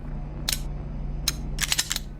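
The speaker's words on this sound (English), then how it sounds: "Guns jam." A gun jams in the video game Receiver 2, heard as a few sharp metallic clicks and snaps of the action, one alone and then a quick cluster, over a faint low hum.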